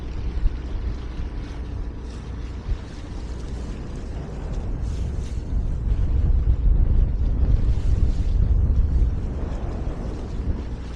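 Boat under way on a wet, dreary, windy morning just after leaving Craignish Lagoon, with constant wind buffeting the microphone and water rushing past the hull, growing louder midway and continuing without talk.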